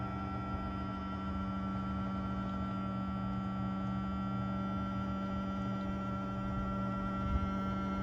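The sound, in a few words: gold finisher prototype motor running on speed controller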